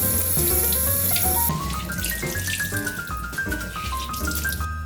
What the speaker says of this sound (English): Okay, gonna rinse it under some hot water.